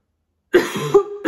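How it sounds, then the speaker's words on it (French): A single short burst of coughing, close and fairly loud, breaking into a quiet indoor talk, with a brief throat-clearing follow-up at the end. "Ça tousse."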